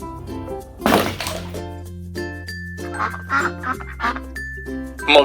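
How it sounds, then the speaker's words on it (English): A cartoon-style duck quacks in a few short calls over a bright jingling children's music backing with tinkling chimes. "Duck."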